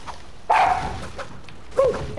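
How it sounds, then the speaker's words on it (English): Chihuahua barking loudly close by: two sharp, high-pitched yelps with a shorter yip between them, clearly audible over a quiet background. "that dog is screaming loud for Chihuahua"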